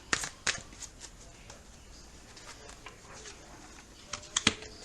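Brief riffling bursts of a tarot deck being shuffled, a couple at the start and another near the end, with quiet between.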